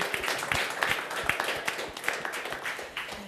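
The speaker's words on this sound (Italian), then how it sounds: "facciamo un applauso al vostro mister ragazzi" A group applauds a youth team's coach, steady rapid clapping from many hands for several seconds, moderately near and fairly quiet.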